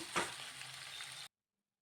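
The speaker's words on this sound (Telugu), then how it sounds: "చూడండి కాస్త ఫ్రై అయ్యేంత వరకు ఫిష్ పీసెస్ ఉంచి కొద్దిగా మగ్గేంత వరకు మూత పెట్టేసుకొని" Fish pieces sizzle steadily in a covered pan, a soft continuous frying hiss with a brief louder burst near the start before cutting to silence.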